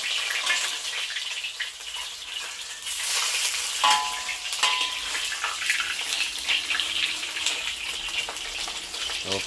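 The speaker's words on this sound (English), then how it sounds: "So we have to fry the fish for a while." Fish frying in oil in a wok, a steady close sizzle and crackle running throughout with occasional clinks and stirring, no voices.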